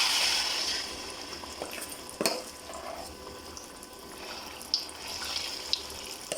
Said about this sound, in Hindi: अब इसमें हमारी ग्राइंड की हुई दाल जाएगी।